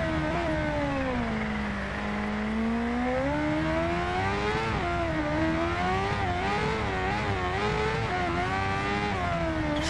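A 2015 Kawasaki Ninja H2R superbike engine screams continuously in the racing game Ride 2, its pitch rising and dipping through gear changes and revs, loud and sustained without pause or speech.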